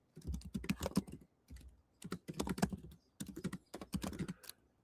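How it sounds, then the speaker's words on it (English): Rapid typing on a computer keyboard, close and clear, in quick bursts of clattering keystrokes separated by short pauses, with no voices. "I am busy typing away so that I can take notes and do a recap later."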